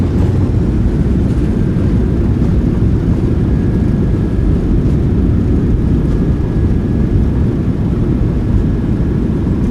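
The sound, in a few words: PMDG 737-700 thrust reversers roaring on landing, flight simulator game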